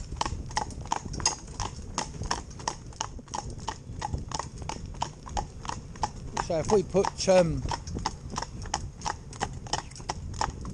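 A horse trotting in harness, pulling a cart, its hooves striking a steady, rapid clip-clop close by, with people talking over the hoofbeats throughout.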